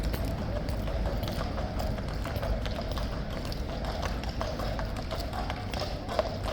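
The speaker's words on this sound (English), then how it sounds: "Horses, police horses are coming through as the guard is returning to his post." Police horses' hooves clip-clop past at a King's Guard changing ceremony, a steady run of close, crisp hoof strikes on pavement over a constant outdoor crowd bed.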